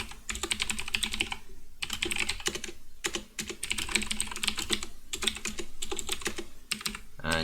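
Rapid, continuous typing on a computer keyboard while entering C++ code, dense clattering keystrokes in steady bursts with brief pauses, close and fairly loud, no talking.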